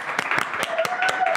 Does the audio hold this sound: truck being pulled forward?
no